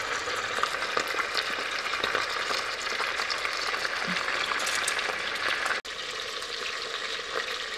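Onions and bacon rashers fry in a pan for a thermal-cooker coq au vin, giving a dense, steady, close sizzle with faint crackles and one brief dropout.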